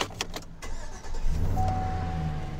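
A 2017 GMC Sierra 2500HD 4WD pickup truck cranks and starts after a few interior clicks, then settles into a steady, close idle rumble with a faint high whine.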